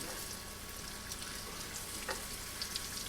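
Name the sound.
floured zucchini sizzling in hot pan with oil and butter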